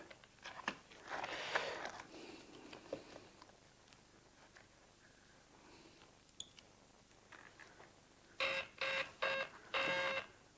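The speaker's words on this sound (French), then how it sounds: "Donc il fait bip 3 fois parce que c'est du 3S." Faint handling noises and rustling, then three short electronic beeps in quick succession near the end from an RC car motor controller detecting a 3S battery, followed by another beep.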